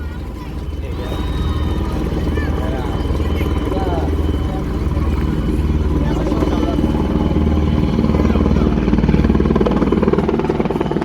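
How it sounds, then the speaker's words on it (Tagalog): Helicopter hovering over a large fire in Isla Puting Bato, Tondo, Manila, its steady rotor and engine drone continuous and fairly loud beneath a busy crowd, with people talking nearby throughout. "Ayan na guys, yung helicopter guys."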